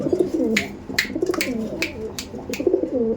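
A female pigeon and other Mangalgiri pigeons coo close by in repeated throaty rolling calls, with sharp clicks and rustles between them.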